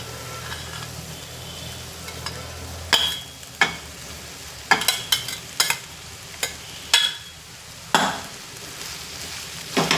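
Cooked rice tossed with mixed vegetables in a hot pan for fried rice, with sweet potato and coconut, gives a close, steady sizzle broken by repeated sharp scraping and clattering strokes as it is stirred, with no talking.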